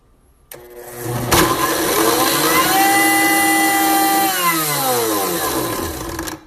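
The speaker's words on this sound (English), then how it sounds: "Toss all those ingredients into your blender and hit a random button." A kitchen blender loaded with ingredients for beans whirs up with a sharp start, then holds a loud, steady motor whine that sags lower in pitch near the end before cutting off. No one speaks over it.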